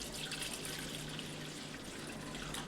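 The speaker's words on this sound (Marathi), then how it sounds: "दही घेऊन त्याच्यामध्ये तुम्ही पाणी घ्यायला पाहिजे" Water poured into a bowl of yogurt gives a faint, continuous trickling splash for a few seconds.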